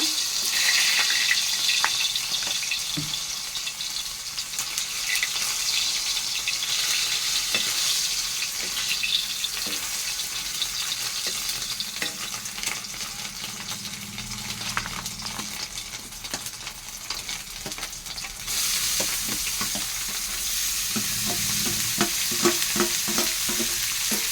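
Dried fish fries and is stirred in a pan, giving a steady crackling sizzle with scraping stirs at intervals that grows brighter and louder toward the end, close and continuous without talk.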